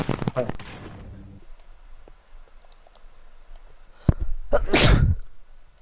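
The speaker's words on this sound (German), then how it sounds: "Gesundheit." A single loud sneeze lands near the end, sharp and close. It comes after a stretch of German conversation, and a burst of voice at the start is followed by quieter clicking in the background.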